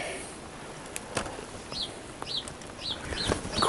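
Birds chirp and call outdoors on a spring day, with short repeated calls coming and going against steady background noise.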